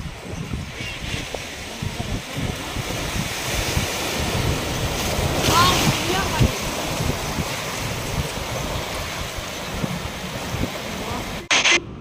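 Sea waves wash and surge on the beach at Kanyakumari in a continuous roar, with wind buffeting the microphone and a brief louder swell midway.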